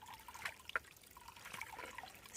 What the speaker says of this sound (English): clearing little paths for the water to help drain it, because we're pretty much walking up a stream.